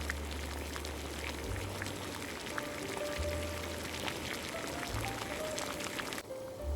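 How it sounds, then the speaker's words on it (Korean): Korean pudding-style steamed egg custard simmers gently in a covered pot over medium-low heat, giving a continuous soft bubbling and hissing with faint tapping drops throughout. "은근하게 끓여야 합니다"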